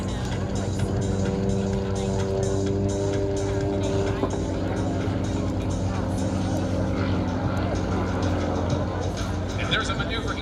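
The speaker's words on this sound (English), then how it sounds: "The Sukhoi SU-31, one of only 5 flying in the United States today" A Sukhoi SU-31 aerobatic propeller plane flying at the Cherry Point Air Show, its engine droning steadily in the distance beneath a loud announcer's commentary and crowd noise.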